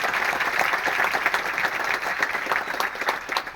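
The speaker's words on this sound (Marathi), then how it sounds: "एकदा जोरदार टाळ्या" Audience applause at a Vestige agri products talk, a dense burst of many hands clapping together, loud and steady, and fading slightly near the end.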